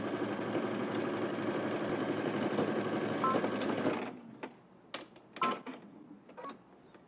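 A sewing machine stitches across the shoulder seams of a garment at a 5/8-inch seam allowance, a steady close whirring run for about four seconds, then stopping, followed by a few short clicks and bursts of handling.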